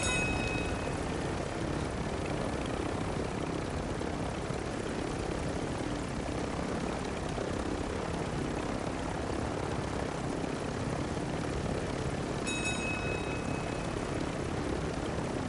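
A helicopter's engine and rotor drone steadily in a video game, a continuous loud rumbling whir that stays constant throughout, with a brief faint tonal chirp near the end.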